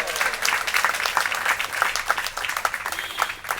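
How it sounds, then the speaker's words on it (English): An audience at a Gaudiya Vaishnava gathering breaks into a big round of applause, a thick continuous wash of clapping hands that holds strongly across the whole stretch with a little crowd noise mixed in. "Let's give him a big round of applause."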